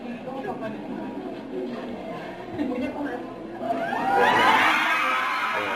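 Fans scream and cheer inside a cinema when a celebrity steps out, crowd noise and chatter building into a loud burst of high-pitched shrieks near the end, with people talking underneath.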